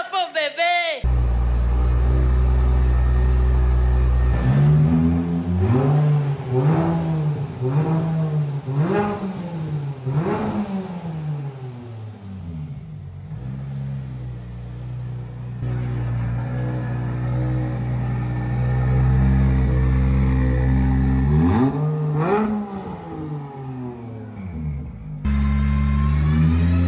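A Nissan S14 race car engine revs hard in repeated rising and falling bursts, then settles into a loud, steady drone before one more sharp rev near the end; voices are heard at times.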